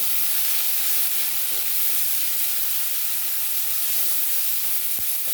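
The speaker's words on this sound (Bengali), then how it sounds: "এই যে দিয়ে দিলাম এটা ভেজে নেবো হালকা করে" Whole garam masala sizzles gently in hot oil for a fish curry, a continuous close frying hiss with one small knock near the end and no talking.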